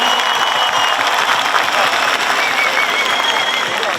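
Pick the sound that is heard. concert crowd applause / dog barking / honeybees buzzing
concert crowd applause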